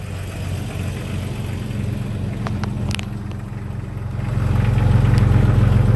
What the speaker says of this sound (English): Well, the exhaust system sounds good.